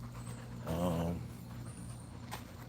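A dog of the Americane da Presa breed gives a brief burst of close panting with a soft whimpering edge, set against a steady low hum.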